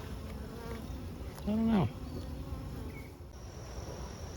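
Honeybees buzz steadily inside a deteriorating drone-laying colony holding both drones and workers, a continuous close hum with one louder, rising-then-falling buzz passing near, and a few brief spoken words.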